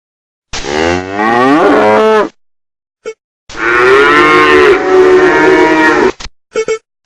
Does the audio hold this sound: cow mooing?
yes